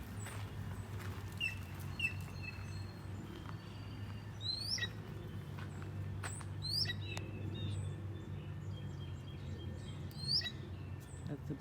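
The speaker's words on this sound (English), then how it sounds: "That's the blue jay." Blue jay calling outdoors in a natural setting, giving a few sharp, scattered calls at moderate distance over a low, steady background hum.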